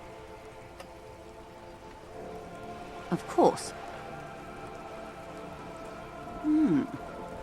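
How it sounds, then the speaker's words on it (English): Rain in the video game Disco Elysium falls steadily on wooden boards and surrounding water, a soft continuous patter with a brief voice speaking over it. "All around you, rain keeps falling down. On the wooden boards she's standing on, and on the water around you."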